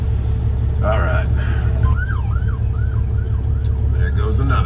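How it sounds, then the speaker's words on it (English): An ambulance siren wails in repeated rising-and-falling sweeps as it passes close by a construction zone accident, over steady road and engine rumble. "There goes the ambulance."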